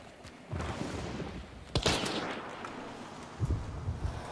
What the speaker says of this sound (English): I'm shooting that guy!